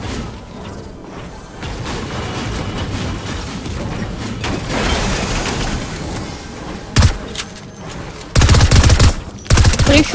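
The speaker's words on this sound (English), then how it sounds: "It's a shotgun" Gunfire and booming blasts in Fortnite, from quieter distant shots to loud close shotgun bursts near the end, heavy and punchy in short clusters.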